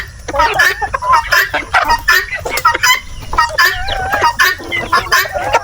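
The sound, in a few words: chickens clucking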